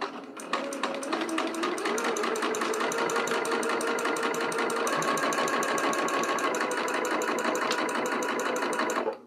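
A sewing machine runs fast and continuously while sewing a long basting stitch through fabric, its rapid, even mechanical clatter close and steady for several seconds before stopping abruptly.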